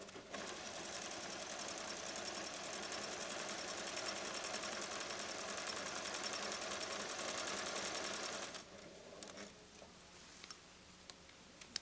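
A Pfaff creative 1475 sewing machine runs a straight stitch with its straight stitch foot, straight stitch plate and dual feed engaged. A fast, steady mechanical rattle continues for about eight seconds and then stops, leaving faint clicks.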